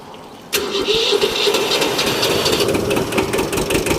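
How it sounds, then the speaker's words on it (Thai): An old small Japanese tractor, imported secondhand, cranks and catches after about half a second, then settles into a loud, steady, slightly rough idle with a rattling, knocking edge, close by and without speech. "เดี๋ยวมาฟังเสียงเครื่องครับ"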